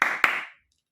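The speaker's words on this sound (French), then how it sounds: "Je t'applaudis." A man claps his hands twice in quick succession, two sharp close claps with a short ringing tail and nothing after.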